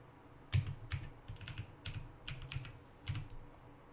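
Close-miked computer keyboard typing in short irregular bursts of keystrokes as a username and password are entered, with a few heavier taps and no talking.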